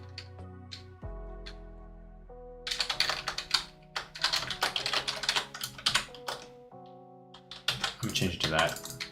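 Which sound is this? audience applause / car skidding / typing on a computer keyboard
typing on a computer keyboard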